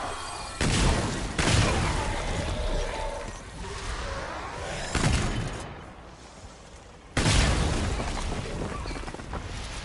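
Heavy booming explosions from the Remnant 2 video game, three loud broadband blasts with rumbling tails, each followed by crackling debris and lingering noise.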